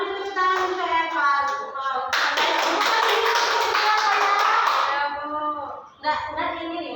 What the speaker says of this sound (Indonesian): Beri tepuk tangan untuk Eva